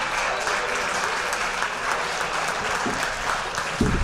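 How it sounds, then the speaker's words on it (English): Steady applause from a banquet audience at a fall athletic banquet honoring school sports teams, a dense continuous patter of many hands held at even loudness throughout, with a brief louder thump near the end. "Thank you for keeping the applause going."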